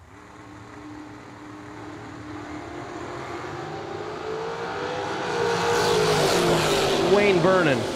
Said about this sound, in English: The Dragster, left side. J.R. Lockhart, Riverside, Ohio.